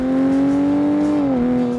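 Car with a Borla stainless steel exhaust system revving, a loud sustained engine tone that holds steady then drops slightly in pitch near the end, with no talking.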